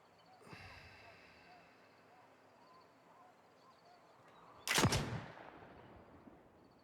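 A single loud, sharp gunshot cracks from a hunting scene in the Oregon Trail video game. It has a brief ringing tail and rises over faint background game sounds, with an earlier softer shot near the start.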